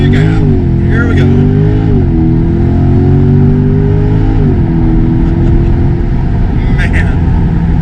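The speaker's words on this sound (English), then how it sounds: "We're ready for our last launch control in the C8" A 2022 C8 Corvette HTC launches hard under launch control, its loud, near engine note climbing steadily with gear-change steps, while people talk over the roar throughout.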